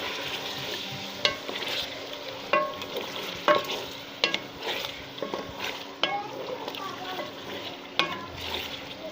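Chicken qorma is stirred in a pan with a flat spoon, giving scraping, clinking strokes at irregular intervals over a steady sizzle of frying, close and moderately loud.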